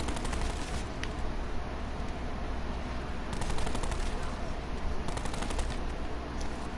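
Rapid automatic gunfire from the gun built into a shield in the Black Ops 4 zombies mode Classified, several sustained bursts of dense, crackling shots at moderate loudness.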